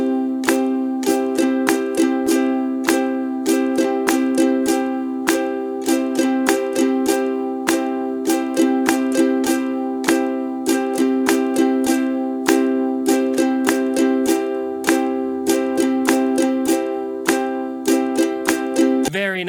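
Ukulele strummed steadily in a down-up pattern along to a beat, brisk, even strokes over a sustained ringing chord for nearly twenty seconds, close and clear with no talking.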